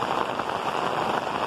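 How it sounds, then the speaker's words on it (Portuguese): Heavy rain falls steadily over the Sertão backcountry at São José do Belmonte, a dense, even hiss of drops with no break and no voices. "a chuva caindo no nosso sertão"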